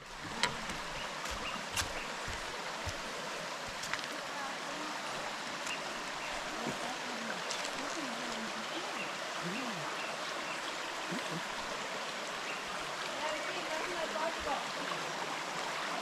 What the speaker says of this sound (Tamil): இதுதான் பார்த்தீங்கன்னா ஃபால்ஸ்லேருந்து வர தண்ணி.